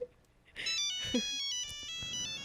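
A phone ringtone starts after a brief quiet moment, a bright electronic melody of repeating tones playing steadily and fairly close.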